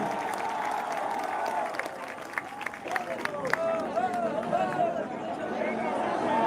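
A crowd at a live religious gathering claps to welcome guests, a steady wash of applause mixed with busy hubbub and background voices, sustained at moderate loudness throughout.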